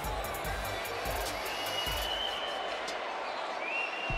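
A wrestling arena crowd in WWE 2K18 keeps up a steady, dense roar of cheering throughout, with a few brief thuds near the start.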